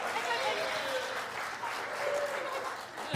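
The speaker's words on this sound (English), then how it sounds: "one more round of applause for Kelsey and Tucker" Audience at a talent show applauding steadily for about three seconds, a dense, even wash of clapping that swells slightly near the end.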